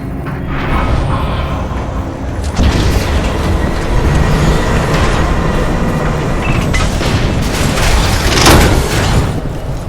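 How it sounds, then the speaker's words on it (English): A heavy cargo tram in the video game Lost Planet 3 rumbles loudly and continuously, with a deep rolling roar, a sudden heavier thump partway through and swelling mechanical noise, with no voices over it. "Heavy cargo tram is docked and ready."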